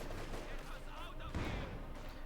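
Artillery and tank gunfire in Company of Heroes 2, a real-time strategy game, with a heavy boom landing mid-clip amid continuous battle noise and rumbling, under a commentator's voice.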